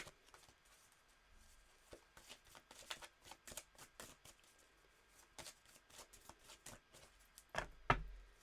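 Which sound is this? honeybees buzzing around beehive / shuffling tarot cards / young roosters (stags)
shuffling tarot cards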